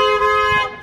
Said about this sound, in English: honking your horn here